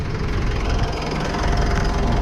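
A 2015 Mitsubishi Pajero Sport Dakar diesel engine idles, a dense, steady low rumble with a fine knocking clatter, loud and close with no voices over it.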